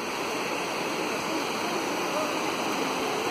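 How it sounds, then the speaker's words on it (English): Clear mountain stream at Siruvani, Coimbatore, flowing in a steady, dense rush of water, loud and continuous without pauses. "See the streams, wow, the purest water."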